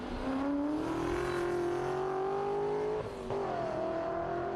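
A historic race car accelerates hard at the Leyburn Sprints, its engine howling steadily upward through a gear near the track, with a brief dip at a shift before it climbs again, loud and alone.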